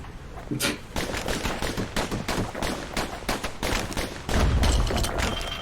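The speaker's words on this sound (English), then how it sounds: "Dueling pistols." Rapid shots from dual dueling pistols in the game Bastion, a quick irregular string of sharp cracks, fairly loud and close, ending with a heavier low thump.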